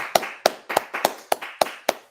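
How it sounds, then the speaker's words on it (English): A class claps in unison, seven sharp, evenly spaced claps ringing out loudly in a room with no talking between them. "All right, clap it up."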